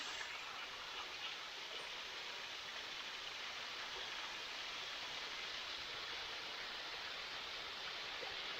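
Water from falls along Bear Creek north of Whitehaven rushes in a steady, even hiss, moderately distant and unbroken throughout, with no voices.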